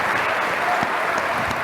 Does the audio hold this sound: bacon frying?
no